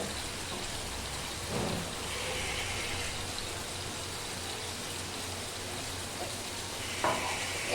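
A blended spice paste of coriander, green chili, salt and turmeric fries in a pan with an even, rain-like hiss throughout and a soft thump near the end.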